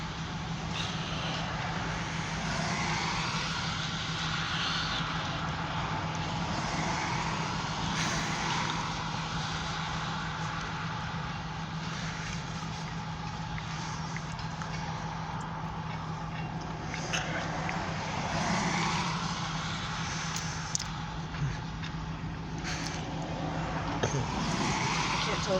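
Freight train of grain hoppers rolling past outdoors in Oil City, Pennsylvania, a steady loud rumble of wheels and rail clatter with a constant low drone and occasional squeals and clanks, sustained without letup.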